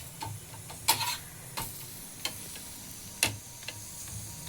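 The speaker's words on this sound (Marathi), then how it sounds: "आणि इथे ना तिला आलू पराठा करून घेते." Soft sizzle of aloo paratha frying on a home stove, steady low hiss with scattered light ticks and taps from the pan and spatula, quiet and close.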